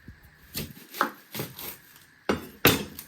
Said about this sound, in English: You're first going to chop your end off.